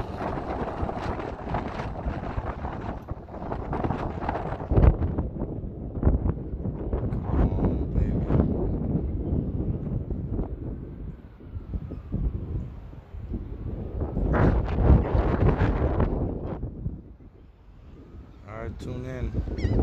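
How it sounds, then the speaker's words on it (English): Gusty wind buffets the microphone in uneven surges, with the open rumble of water nearby at Jamaica Bay; no voices, just the wind rising and easing. "It's beautiful out here. It's a little windy"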